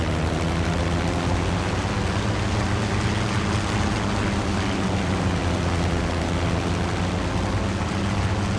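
Steady droning engine of a light aircraft taxiing out and taking off, a constant loud hum with a low, even rumble and no break for the whole stretch.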